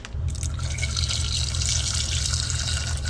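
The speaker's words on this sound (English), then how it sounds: "Just want to cover them a little bit with water, just maybe a 1/4 to a 1/2 inch over the top of them" Water runs steadily into a pot holding hot dogs for pozole, a continuous close splashing pour that fills the whole stretch without pause.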